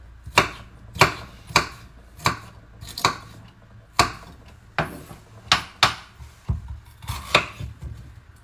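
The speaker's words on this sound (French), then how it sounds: "Tu fais d'abord des petites lamelles, comme ça. Le plus fine possible." A knife slicing a bell pepper into thin strips on a cutting board: about a dozen sharp, evenly spaced chops, close and distinct, with no one talking.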